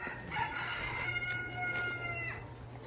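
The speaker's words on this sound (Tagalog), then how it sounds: "May naglilimlim din naman dito na manok." A brooding hen sitting on eggs clucks and croons in drawn-out, wavering calls, close by, over a low background hum.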